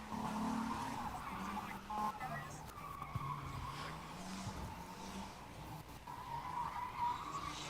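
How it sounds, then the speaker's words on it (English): An S13 Nissan 240SX drift car at a test-and-tune event, engine droning and tires squealing in long wavering tones at moderate distance, with people talking over it throughout. "240 SX, one of the most iconic drifty cars I think you could think of"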